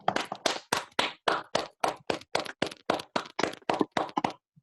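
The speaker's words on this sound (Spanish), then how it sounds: "Un aplauso para todos." A small group at the close of a talk by Raul Ferrara and Oscar Cuartango for an Argentine association claps in a steady, rhythmic beat, about fifteen sharp, evenly spaced claps filling a few seconds before stopping.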